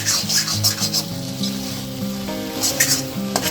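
A spiced Andhra-style potato mudda fry sizzles loudly in a pan while being stirred, with steady frying hiss, scraping strokes and occasional clinks, alone without talk.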